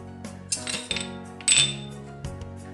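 A spoon scrapes and clinks against a bowl while semolina appam batter with curd, spices, green chilies and coriander is mixed, in a few irregular close bursts with background music.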